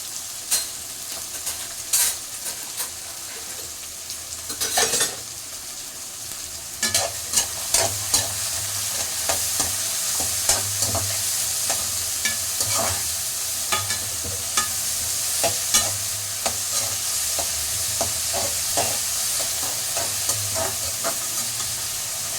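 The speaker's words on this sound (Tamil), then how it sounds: "வதங்கின அப்புறம் நம்ம இப்போ வெங்காயம் நல்லா வதங்கிச்சு" Onions sauté in a pan with a steady, bright sizzle under repeated scraping and clacking strokes of a stirring spoon, close up and continuous for over twenty seconds, no voices.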